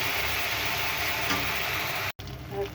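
Tomato puree is added to a hot pan for egg curry and fries with a loud, continuous hiss that breaks off briefly before the sizzling resumes.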